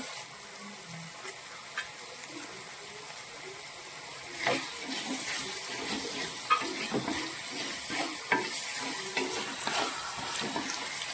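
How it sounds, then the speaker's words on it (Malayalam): Curry leaves sizzle in hot oil in a pan while being stirred for a clam pickle. A soft hiss swells suddenly partway through, with scattered scraping and clicking stir strokes over steady frying noise. "ഇതിലേക്ക് നമ്മൾ കുറച്ച് കറിവേപ്പില ചേർക്കുവാണ്."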